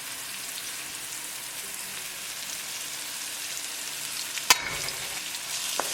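A minute of frying for chicken drumstick curry: salt, coriander, turmeric, Kashmiri chilli, garam masala and cumin sizzle with the tadka in a pan. The hiss is constant and close, and a sharp scrape and clink of a stirring utensil comes near the end.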